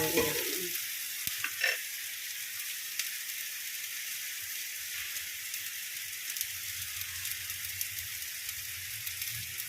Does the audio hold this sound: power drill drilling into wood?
no